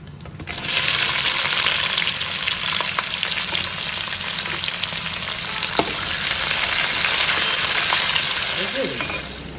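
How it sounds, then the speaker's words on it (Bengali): Dried red chillies, bay leaf and cumin seeds tempering in hot oil for a Bengali mutton curry, a loud continuous broadband sizzle that starts abruptly and holds steady, with a few faint clinks and stirring touches. "তেল গরম হয়ে গেছে, ফোড়ন দিয়ে দিলাম, শুকনো লঙ্কা, তেজপাতা আর জিরে"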